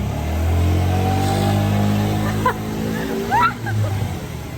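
A scooter's small engine hums and revs nearby in a low steady drone, rising briefly twice, over a noisy outdoor background.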